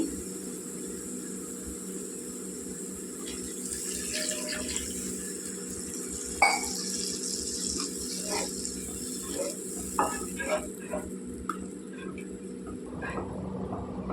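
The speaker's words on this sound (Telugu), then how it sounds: "ఇప్పుడు నీళ్ళు వేసుకోవాలండి." Water pours into a pan of frying chili and oil while macaroni curry cooks, a steady running trickle with faint sizzling and occasional clinks of utensils nearby.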